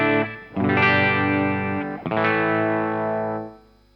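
An electric guitar on its bridge pickup through a Marshall amp with low preamp gain strums two sustained, lightly overdriven chords that ring out and fade, loud and alone.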